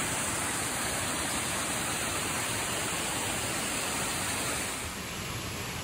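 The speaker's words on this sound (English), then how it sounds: "We're gonna go up this creek now." A creek flowing steadily in the woods, a broad continuous rush of water that stays close and even throughout with no talking.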